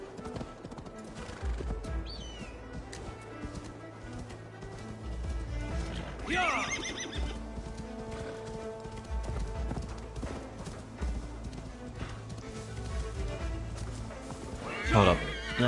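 A horse whinnies and its hooves clip-clop in Assassin's Creed Valhalla, a loud neigh mid-way and another near the end over steady hoofbeats and game ambience, with someone talking throughout.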